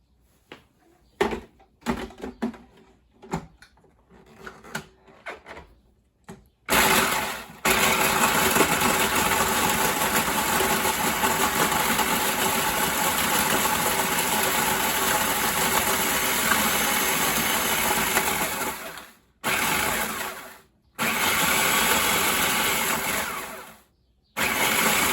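A food processor chops cheesecake ingredients: a few short pulses, then a loud, steady motor whir. The whir cuts out briefly twice and restarts each time.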